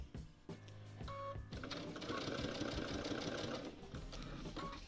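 A sewing machine runs in a fast, continuous whir while stitching a quilt binding, starting with a few short bursts before settling into a sustained, close hum.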